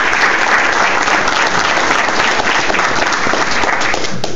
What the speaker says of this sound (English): they deserve another round of applause just for that